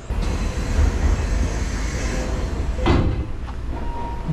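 Steady rumble of a train moving on rails in Japan, with a sharp metallic clunk near the end and a faint tone sliding above the low roar.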